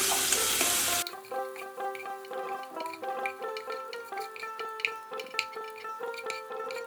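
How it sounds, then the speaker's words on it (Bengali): Turmeric powder lightly frying in hot oil in a pan, with a loud burst of sizzle at first that drops to a softer crackle under occasional stirring taps and scrapes. "খুব হালকা করে ভেজে নেব, বেশি কড়া ভাজবো না"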